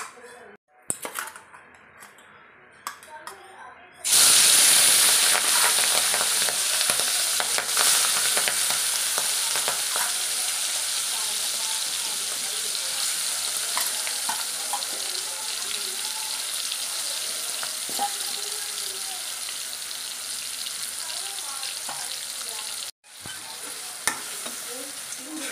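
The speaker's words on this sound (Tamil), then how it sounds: "ஆயில் ஹீட் ஆனதும் நம்ம சிப்பி மீனை போட்டுடலாம்." Sea mussels drop into hot oil in a pan and fry with a loud, sustained sizzle that bursts in abruptly and stays dense and crackling, briefly cut off near the end before resuming.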